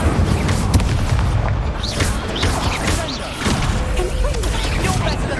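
A Confringo blasting spell exploding in the video game Hogwarts Legacy, heavy booming blasts and crashing thuds over dense game combat noise, loud and close throughout.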